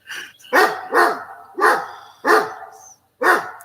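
Close, loud dog barking in an even rhythm, five or six separate barks with short gaps between them and no voices.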